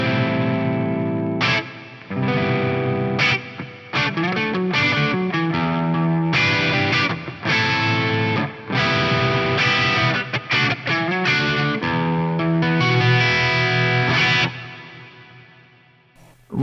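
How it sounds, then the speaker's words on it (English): Distorted electric guitar chords ring out with a huge, lush 80s Lexicon-style hall reverb from a Fractal FM3 preset, sustaining and washing into a long decaying tail at the end. "Really, really big reverb right there."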